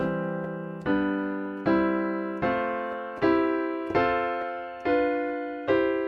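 Seven sustained piano chords played one after another at an even pace, each ringing and fading before the next, harmonizing a rising major scale.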